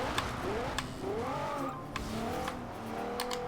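A 2014 Maserati Ghibli S engine revving and shifting as it drives on gravel in Forza Horizon 2, with rising and falling engine tones and some sharp clicks, close and steady.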